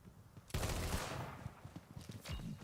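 Gunfire in Borderlands 3 as shots are aimed at bottles: a sudden loud burst of shooting that rings out and trails off, then a few scattered sharper shots and impacts, with no talking.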